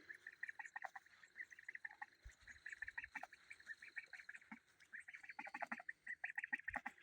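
Ducks on a homestead quack steadily, a busy chorus of short, nasal calls at moderate distance with a few dull thumps in between.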